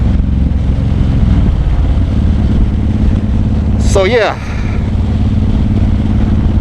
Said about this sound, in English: We are rocking the Cobra exhaust on the motorcycle, and that's what you're listening to